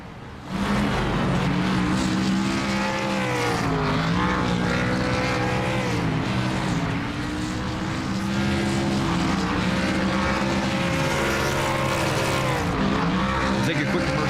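In a racing video game, a race car does a burnout in victory lane after an ARCA West Series race at Texas. The engine roars loud and sustained, its pitch sweeping up and down with revs under faint commentary.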